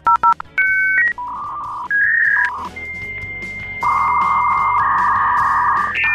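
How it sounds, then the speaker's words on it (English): A dial-up modem connects to the internet: quick dialing tones, then shifting whistles, steady handshake tones and a long buzzing screech, loud and close. "Every time I connected to the internet, my modem made this sound."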